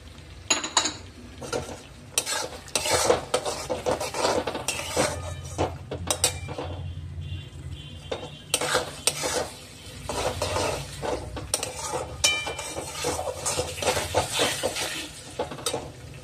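Peas being stirred into a pan of frying dum aloo with yogurt-based masala, a spoon scraping and clinking against the pan in an irregular rhythm over a steady close sizzle.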